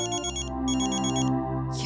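A phone ringtone plays in a Hindi TV drama household scene, a repeating electronic melody in two bursts over a low musical backing, fairly loud and with no talking over it.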